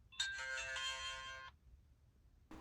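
A short electronic startup chime from a LingDu LD02 Lite 4K dash cam, a bright melodic tone lasting about a second and a half, then quiet before a brief click.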